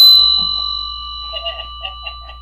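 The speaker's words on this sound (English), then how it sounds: "I can even ring a bell for that one" A single bell strike rings out near and clear, its sustained tone slowly decaying over two seconds while a few faint, brief background sounds appear toward the end.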